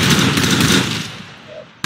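Sniper rifle fire in a video game: a single loud, booming shot that fades into a rumbling tail over about a second, followed by the start of another sharp report at the end.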